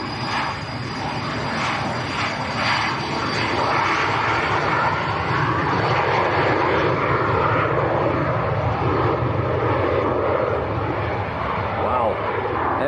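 A Virgin Atlantic Airbus A330 jet powering up for takeoff from Manchester Airport, a loud, steady roar of engines that fills the whole stretch and holds constant, with voices talking faintly beneath it.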